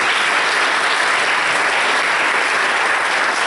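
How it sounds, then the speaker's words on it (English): A crowd at an outdoor civic grant celebration breaks into loud, sustained applause from many hands. The clapping is thick and unbroken, a steady roar with no voices standing out. "another round of applause"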